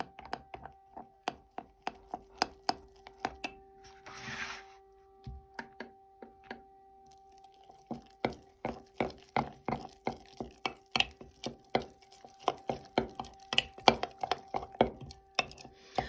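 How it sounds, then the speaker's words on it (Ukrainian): A spoon stirs hop sourdough starter with rye flour in a container, making rapid, repeated clinks and taps that pick up pace and density in the second half, over a faint steady hum. "Ретельно розмішуємо"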